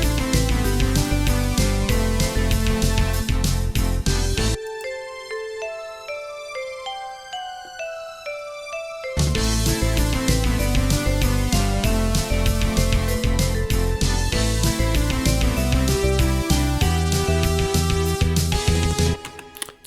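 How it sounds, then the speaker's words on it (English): A vibraphone-like synth plays in dense, busy retro 16-bit JRPG-style battle music. Rapid notes run over a full backing, which drops out for a few seconds of lighter melodic lines before the driving full arrangement returns. "I am playing single notes on this vibraphone sort of sound"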